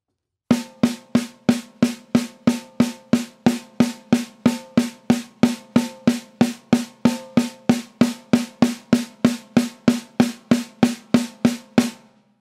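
A long, even run of crisp drum strokes in a single- and double-stroke sticking pattern, struck one after another at a steady, quick pulse, close and dry, ending abruptly.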